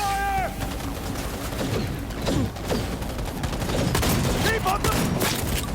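Bursts of gunfire from a PS5 video game crackle in rapid volleys alongside game sound effects, loud and dense, with a voice speaking over the action.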